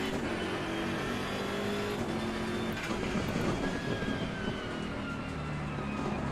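GT3 race car engines in the racing game Assetto Corsa Competizione at Brands Hatch, with a steady, dense roar of several cars running close together and no talking.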